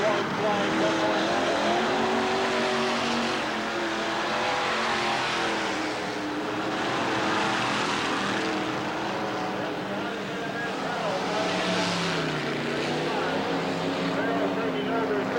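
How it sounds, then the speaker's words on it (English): Dirt-track race cars roar steadily around Bureau County Speedway, with the red number 10 car heading for the checkered flag, the engine noise swelling and fading as the pack passes, loud and continuous over an announcer's voice. "Here he comes for the checkered flag in that red number 10 car."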